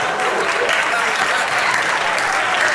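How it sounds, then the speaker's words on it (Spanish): Loud, dense audience applause at a live stand-up comedy show, continuous and close throughout a short burst. "Esto es el último aplauso que le hacemos a Tony Williams, ¿eh?"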